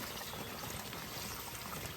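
Water pours steadily into a cooking pot while smoked neck bones, lima beans and okra are being prepared, a faint, even splashing stream with no talk.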